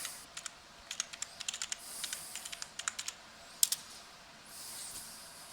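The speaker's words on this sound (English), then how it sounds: "I'll type it in." Quiet tapping of a computer keyboard, with irregular bursts of keystrokes and short pauses between them in a calm room.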